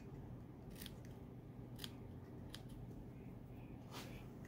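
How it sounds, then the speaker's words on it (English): Scissors-style snips trimming paper, with several crisp, close cuts spread irregularly over a steady low background hum and no talking. "These snips are great, but if you use them with paper, then they get dull, right?"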